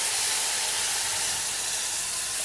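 Hot sugar syrup hitting cooking halwa in a pan gives a loud, steady hiss and sizzle that fills the short clip with no break or voice.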